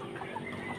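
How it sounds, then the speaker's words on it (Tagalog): Fighting roosters in a backyard farm give soft, muffled clucks, faint and brief over a steady outdoor background. "Ay, nagsasabong sila"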